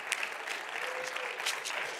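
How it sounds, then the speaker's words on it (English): An audience at a live talk or sing-along event breaks into steady, fairly faint applause, the clapping sustained and even throughout with no voices standing out. "give yourself a round of applause right about now"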